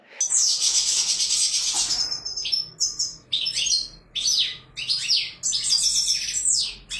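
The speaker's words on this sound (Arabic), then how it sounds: "الفيديو هذا باش نحكوا فيه على نوع معين من الحسون، المقنين هذا اللي يمتازوا به اخواتنا في الجزائر اللي يسموه المقنين الشرمار" A European goldfinch of the Algerian Mguenine Charmar type sings loud, close and alone, in a rapid run of bright twittering phrases broken by short pauses.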